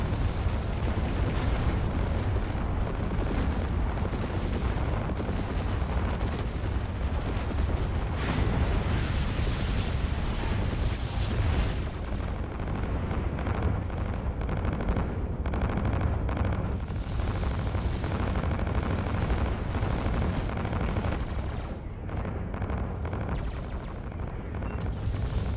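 Heavy gunfire from the Iron Enforcer ship in the space combat game Fractured Space, a dense, continuous roar of booming shots and rumbling blasts that keeps up steadily and loudly for the whole stretch, with no voices.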